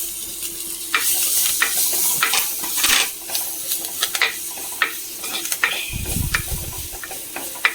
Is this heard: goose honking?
no